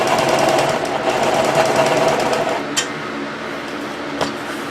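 A sewing machine stitches a golf cart seat cover, running loud and steady with a fast mechanical whir for nearly three seconds, then stopping and leaving only faint handling clicks.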